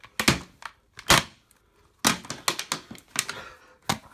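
A plastic Chicken Little DVD case is smashed apart in a series of sharp, close cracks and thumps, arriving in irregular bursts with short silent gaps between them.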